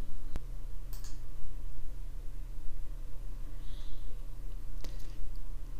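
A computer mouse clicking during website theme setup work, a few sharp isolated clicks spaced seconds apart over a steady low electrical hum, close and distinct.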